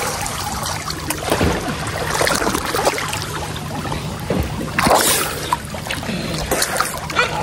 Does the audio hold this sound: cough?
no